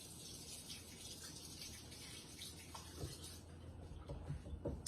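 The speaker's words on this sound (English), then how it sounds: "I'm going to rinse my hand off." Running water pours from a tap as hands are rinsed in a farm kitchen, a steady soft rushing hiss that stays fairly quiet throughout, with a few faint knocks near the end and no talk.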